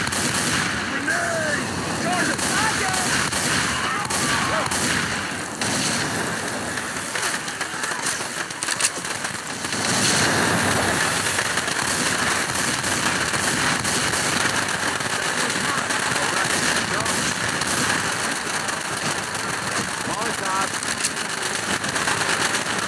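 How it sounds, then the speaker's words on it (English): Gunfire crackles in Left 4 Dead 2 during a survival round at a McDonald's, dense rapid shots running almost continuously over a noisy battle din. "This is a gun. Fire bullets here."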